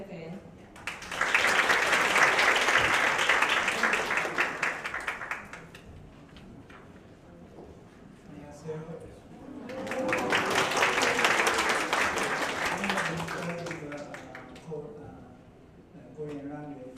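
An audience at an academic opening ceremony welcomes a university president with two swells of warm applause, the first about four seconds long and the second slightly softer, with someone speaking in the pause between them.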